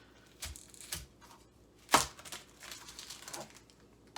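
A knife slices an onion in half on a cutting board: one sharp crunching cut stands out near the middle, with a few softer knocks and crinkles of onion skin around it, close and fairly quiet.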